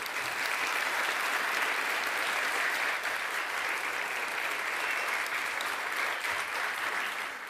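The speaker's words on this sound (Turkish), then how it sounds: "Alkışlayalım gençleri hep beraber." Loud, sustained applause from a studio audience at a Ramadan iftar TV programme for a young hafiz vocal group, steady clapping filling the whole stretch with no break.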